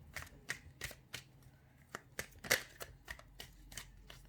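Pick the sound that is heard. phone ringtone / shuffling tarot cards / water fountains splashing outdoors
shuffling tarot cards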